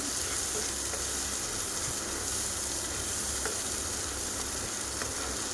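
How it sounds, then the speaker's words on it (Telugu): Chole curry masala fries and sizzles in oil while it is stirred, giving a steady close crackling hiss throughout with faint scraping, and no talk. "ఆయిల్ పైన తేలే వరకు బాగా కలుపుకొని వేయించుకోవాలి"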